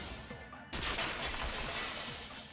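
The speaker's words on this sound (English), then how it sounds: "the girl heard the sound of the window shattering" Sudden glass-shattering sound effect from Danganronpa 2: a quiet lead-in, then a loud crash that bursts out and trails into a long, bright, scattering tinkle of breaking shards.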